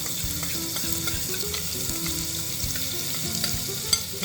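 Green chili paste and crushed garlic fry with asafoetida in hot oil, giving a dense, continuous sizzle close up with light stirring scrapes and one sharper crackle near the end.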